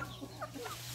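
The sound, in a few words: chickens clucking, mixed native and Rhode Island Red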